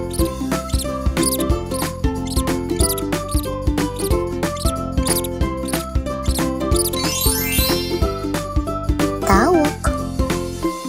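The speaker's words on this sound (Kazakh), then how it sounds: "Тышқан." A mouse squeaks in a short high-pitched burst over a steady, busy backing of bright jingly music that plays loudly throughout, presented as one in a series of domestic and wild animal sounds.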